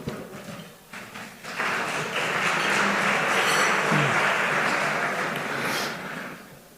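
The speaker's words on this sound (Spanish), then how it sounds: "Un aplauso para él, por favor." Audience applause at an award ceremony, a broad steady rush of many hands clapping that swells in after a quieter start, holds for several seconds and then tapers off.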